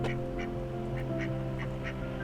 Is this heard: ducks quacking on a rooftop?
yes